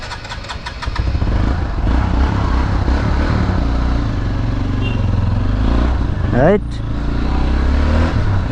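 Hero Xpulse 200 4V motorcycle engine running smoothly after its first service, a steady mid-pitched idle with a brief rev near the end, close by, with someone talking over it.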